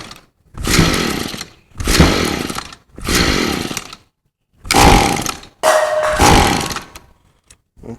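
A gas weed eater engine sputters and revs in five short bursts, each cutting out after about a second as it tries to start, loud and close with silent gaps between the pulls.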